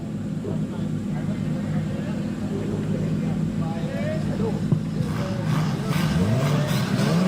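Right-hand-drive Nissan S13 180SX street-spec drift car revving during a competition chase run, engine roar steady and moderately loud throughout, rising and thickening near the end, with crowd and commentary noise mixed underneath.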